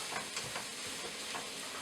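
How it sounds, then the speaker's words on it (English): Mushrooms and onions sauté in a pressure cooker pot, giving a steady soft sizzle with faint stirring scrapes, close and even throughout, with no talk. "So I'm just going to let that saute."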